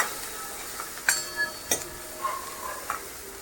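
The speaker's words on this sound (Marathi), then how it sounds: "प्युरी टाकूयात आणि चांगलं तेल सुटेपर्यंत परतून घेऊयात 1-2-3 मिनिटं" Tomato puree sautés in oil in a pan for hotel-style chole, giving a low steady sizzle with several sharp spoon clicks and scrapes against the pan.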